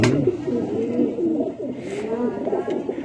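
Pigeons, pure-bred low flyers, coo in low, repeated throaty rolls close by, the burbling calls overlapping continuously.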